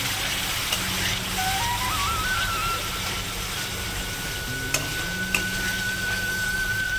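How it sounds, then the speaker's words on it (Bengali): Spice masala for kosha mangsho sizzles in a pan with a splash of water as it is stirred, a steady close hiss with a faint rising tone and a couple of sharp knocks, no talking. "আবার নাড়িয়ে দেবো"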